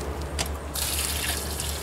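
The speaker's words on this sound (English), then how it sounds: "I might put a little more water in" Water poured into a cement mix, a steady broadband splashing rush that starts partway in and continues loudly to the end, preceded by a few faint drips.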